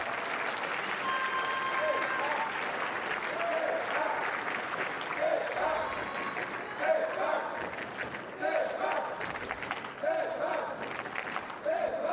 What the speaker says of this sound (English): You can hear the French supporters in the crowd there chanting for Stefan Houdet.